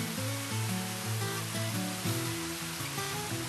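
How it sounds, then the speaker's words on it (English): Arethusa Falls, a 200-foot waterfall over a granite rock face in New Hampshire, roars as a loud, steady broadband rush that fills the scene without pause. "The granite rock face of Arethusa Falls is 200 feet tall, making it the highest waterfall in New Hampshire."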